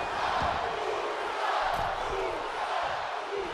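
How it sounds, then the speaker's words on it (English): Crowd in WWE 2K24 roaring for Jey Uso's high-flying dive during a St. Louis main event, a dense, sustained wash of cheering and shouting that stays loud throughout. "This crowd coming unglued, watching Jey Uso soar through the skies of St. Louis"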